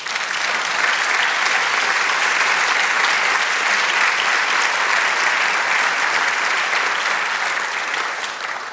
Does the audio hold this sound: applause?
yes